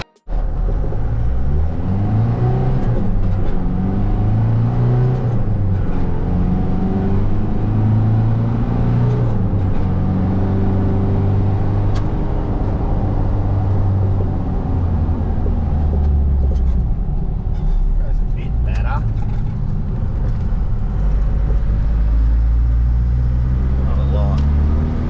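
Holden Rodeo TF ute fitted with a front-mount intercooler and custom intake plenum, its diesel engine droning and building steadily as it drives, with rising and falling harmonics over constant road rumble and no one speaking.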